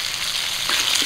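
Potatoes fry with turmeric in a hot pan, giving a bright, steady hiss of sizzling oil with a few brief stirring crackles, close and fairly loud.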